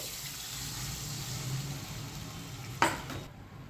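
A steady hiss of a hot pan, then a brief burst of sizzling as about 1.5 cups of water hits it for rava idli, fading to a quieter simmer.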